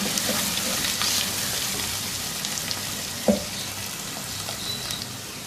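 Sliced green chillies and ginger garlic paste sizzling in hot oil while being stirred, a soft continuous hiss broken by a few scraping clinks, with one sharper knock in the middle.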